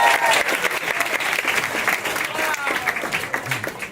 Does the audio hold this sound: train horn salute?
no